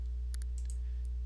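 A few sharp mouse clicks in quick succession, close and faint over a steady electrical hum, as a mask effect is chosen in a WordPress editing tool.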